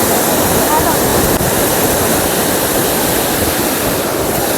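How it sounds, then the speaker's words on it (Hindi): Nanemachi waterfall in Raigad, India, roaring loud and close in steady rain, a dense, unbroken wash of falling water that fills the whole stretch with no pauses. "फाइनली हम लोग पहुँच गए हैं नानेमाची वाटरफॉल"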